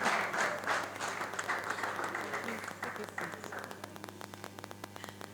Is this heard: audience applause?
yes